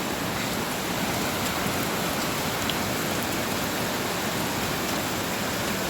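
Small hailstones fall with heavy rain during a windy storm strong enough to snap trees. The result is a continuous, loud hiss and patter up close with no talking.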